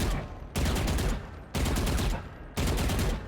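Three rapid bursts of Vandal rifle fire in Valorant, each about a second long and separated by brief pauses, loud and close with a fast rattling rhythm.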